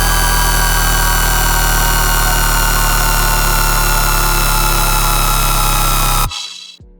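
A bass screech synth patch recreating the one from a track, a loud, dense, buzzing sustained tone held steadily for about six seconds before cutting off abruptly, leaving a brief fading tail.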